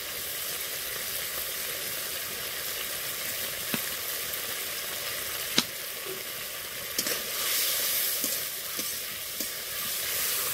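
Chopped tomatoes frying in a pan for aloo matar paneer, a steady, even sizzle that holds throughout, broken by a few faint clicks and knocks as the mixture is stirred.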